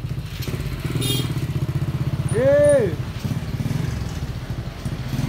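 A Yamaha Jupiter ZR motorcycle engine with a fault chugs close by in a steady, rapid pulsing idle, and someone talks over the running engine.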